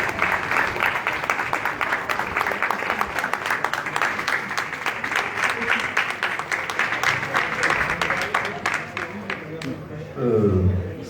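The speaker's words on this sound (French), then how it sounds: "Tonnerre d'applaudissements, s'il vous plaît." An audience applauding at a live event, a long run of sharp sustained clapping that fades near the end as a voice begins speaking over it.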